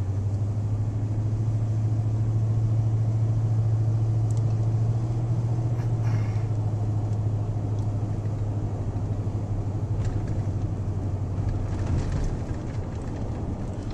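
Steady low engine rumble heard from inside a car driving through Keystone Canyon, Alaska, loud and continuous with a constant drone and road noise, no voices.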